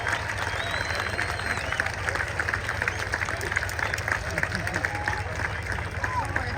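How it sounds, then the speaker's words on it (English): Dense applause from an airshow crowd at Oshkosh AirVenture 2023, steady clapping sustained for several seconds with a murmur of voices and cheering mixed in. "Let's give him a nice big round of applause."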